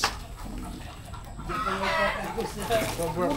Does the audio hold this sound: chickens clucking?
yes